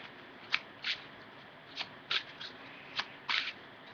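A deck of cards shuffled close up, a series of quick soft riffling bursts at uneven intervals over quiet room hiss.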